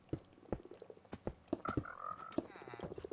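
Several Minecraft frogs croak in a short burst of throaty calls beside an artificial pond built inside a frog enclosure, the croaks fairly close and repeating irregularly, with a warbling tone rising near the end.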